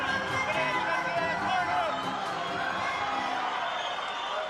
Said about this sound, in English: You hear the crowd going crazy as he steps into the ring